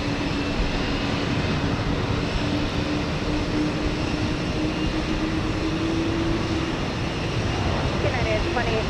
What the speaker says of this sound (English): I hear that sweet noise of the howling of the engines of that 777